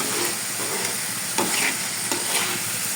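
Prawns stir-fried in a spiced masala give off a steady, close sizzle, with a few sharper scraping stirs breaking through the continuous frying hiss.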